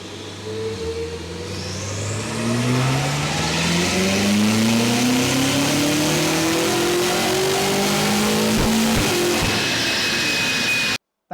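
A BMW F90 M5 on a dyno pulls through the gears under full load, its engine note rising steadily in pitch and loudness over several seconds before cutting off abruptly.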